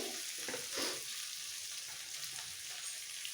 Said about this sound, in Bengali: এটা খুব ভালো করে ভাজবো একদম ড্রাই হওয়া পর্যন্ত